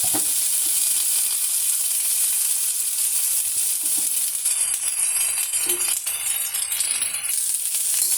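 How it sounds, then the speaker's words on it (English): Chopped onion dropped into hot oil for dhaba-style matar paneer, a loud, dense sizzle and hiss that fills the whole stretch, with faint stirring clinks underneath. "here I have some chopped onion. Adding that."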